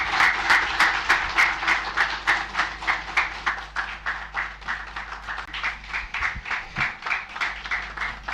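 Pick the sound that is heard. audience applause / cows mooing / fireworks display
audience applause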